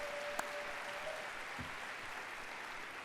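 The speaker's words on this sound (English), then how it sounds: "a big round of applause for the Git Hayetsk drummers and dancers" Soft, continuous applause from a conference audience for the Git Hayetsk drummers and dancers, a faint wash of many hands heard from a distance with no talk over it.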